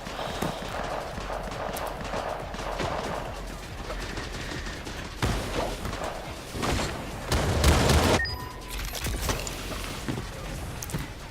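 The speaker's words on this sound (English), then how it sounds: "Footsteps coming from one direction" Footsteps in the online shooter Creative Destruction during a competitive match, rapid clip-clop steps running under a steady game bed, with bursts of distant gunfire and a louder blast near the end.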